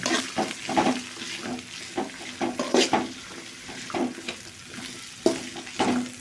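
Fried rice being mixed in a pan with oil, repeated scraping and tossing strokes of a spatula in an uneven rhythm over a soft sizzle.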